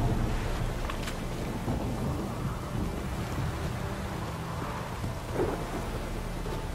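Heavy rain pours steadily through a Witcher 3 thunderstorm, with low rumbles of thunder rolling beneath the constant wash of water, loud and close throughout with no voices.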